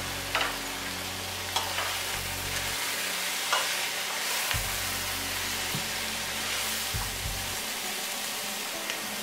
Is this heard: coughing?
no